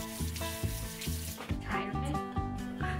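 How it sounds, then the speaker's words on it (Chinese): Clean tap water runs steadily while a face is rinsed, with splashing and uneven gurgles over the flow, close by and with no talking. "我再用清水把脸冲一遍"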